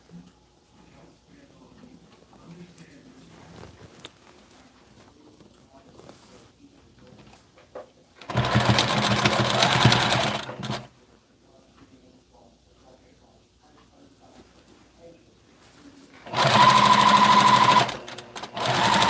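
A sewing machine stitching a torn sleeve on a regular t-shirt runs in two loud, steady bursts of a few seconds each, with quiet handling sounds and low background noise between them.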